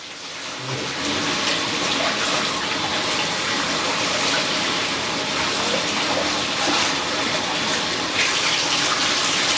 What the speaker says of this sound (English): Now again, water is beating off of it, which is a good sign.